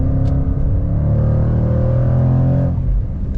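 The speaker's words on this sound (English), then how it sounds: "Coming out of the turns, nice downshifts." A 2021 Jaguar F-Pace SVR engine roars steadily near the microphone coming out of a turn, its pitch shifting through downshifts before easing off at the end.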